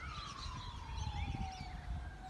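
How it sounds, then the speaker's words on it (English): An ambulance siren wailing in the distance, one long falling tone carrying steadily over a low outdoor rumble and faint bird calls. "Does everyone secretly do that when they hear or see an ambulance?"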